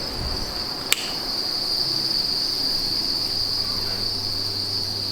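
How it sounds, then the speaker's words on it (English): Crickets trilling in a breeding container, a dense continuous high-pitched chorus at moderate level, with one sharp tap early on and a low hum beneath. "All the crickets at the back"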